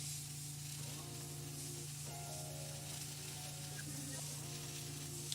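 Dark gray paint sprayed through an airbrush for weathering a model armor piece, a steady close airy hiss running throughout with a constant low hum beneath and a few faint clicks.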